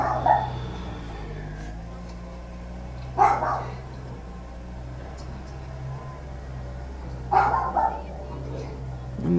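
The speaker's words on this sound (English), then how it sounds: "the dog is barking at all the noise" Dog barks in short bursts at three moments, somewhat distant, outdoors during a snowy blizzard cleanup in New York, over a steady low hum and faint background voices of neighbors.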